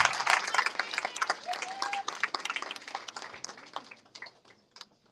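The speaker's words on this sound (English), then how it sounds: "Please continue to clap. Continue to clap. Please continue to clap." Graduates at a human services career program ceremony are cheered by an audience clapping steadily, close and lively at first and then thinning into scattered claps as it trails off.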